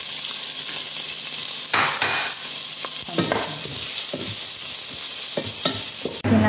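Garlic and onion sauté in hot oil for a chicken mandi rice, giving a steady close sizzle broken by several scraping stirs of a utensil through the pan, with brief clinks near the end.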